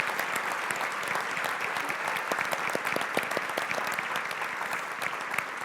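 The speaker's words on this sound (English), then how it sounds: "let's give a round of applause as well for our event sponsors" Audience at a morning breakfast event applauding, dense sustained clapping that carries evenly from start to finish with no voices over it.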